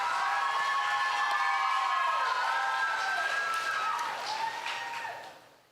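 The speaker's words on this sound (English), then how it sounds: "Let's give them some applause." Crowd applause and cheering for Little Miss contestants on stage at the Choctaw Nation Princess Pageant, a steady wash of clapping with tonal whistles or squeals on top, fading out near the end.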